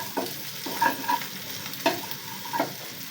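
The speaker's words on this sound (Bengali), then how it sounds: "হচ্ছে পেঁয়াজ ভাজা।" Onions frying in a pan for rain-day khichuri, a steady soft sizzle with a few scraping stirs of a spoon cutting through at irregular moments, close and fairly quiet with no talk.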